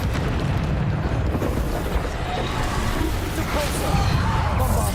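Bombarda spell explosion in Hogwarts Legacy: a loud, sustained rumbling blast with crackling debris, filling the whole stretch without clear breaks.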